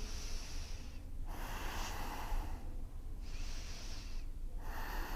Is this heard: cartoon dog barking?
no